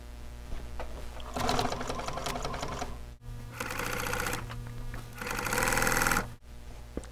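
A sewing machine stitches the cording and boxing of a boxed cushion, running in three steady, close bursts of rapid mechanical whirring, separated by short pauses.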